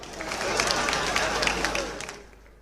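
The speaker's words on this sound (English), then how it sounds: "a round of applause for him." Applause rises from an audience at an Oba of Benin coronation gathering, a dense wash of clapping mixed with crowd voices that swells, holds, then fades near the end.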